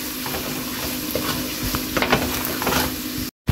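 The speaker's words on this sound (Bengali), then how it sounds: "লবণ দেওয়ার পরে 2 মিনিটের মতো ভেজে নেব।" Red amaranth greens fry in a pan with salt and green chilies. A steady, close sizzle runs under scraping stirs, and the sound cuts off briefly near the end.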